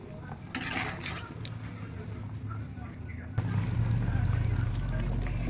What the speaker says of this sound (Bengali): জল আরেকটু দিচ্ছি